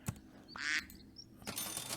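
Duck sound in the Super Auto Pets video game: a short nasal quack stands out between small clicks and interface blips, followed by a brighter burst of game effects.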